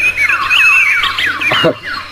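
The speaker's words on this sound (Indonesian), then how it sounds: "Semua burung di rumah kita bernyanyi riang gembira." In a radio drama, pet birds at home sing as a sound effect: busy, bright chirps and squawks overlap continuously, with a low steady hum underneath.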